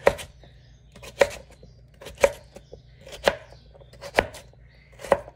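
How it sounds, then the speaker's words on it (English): Russet potatoes being chopped with a knife on a cutting board, six crisp sharp knocks spaced about a second apart, close and clear in a quiet room. "once we get everything chopped up for the potatoes"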